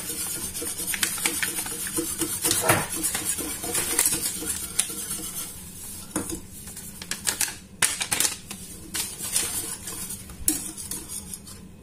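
Utensils scrape and clink against a saucepan while mixing crème caramel ingredients, in an irregular stirring rhythm, with quick metallic taps close by and no talking.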